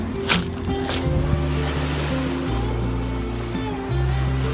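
Surf washing onto a beach shore, a steady broadband wash with a few brief splashes near the start, under a low engine-like drone.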